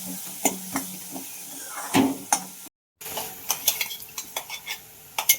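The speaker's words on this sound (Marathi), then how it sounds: "चांगलं तेलात ना भाजून घ्यायचं" Chili, garlic, cumin and mustard seeds fry in hot oil for pitla, a soft sizzle broken by sharp clinks and scrapes of a spoon against the pan, with a brief silent gap midway.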